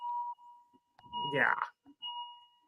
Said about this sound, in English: I'm sorry for that beeping in the background